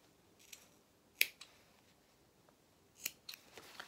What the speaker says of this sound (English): I'm just going to take off some of this seam allowance because we don't need all of that there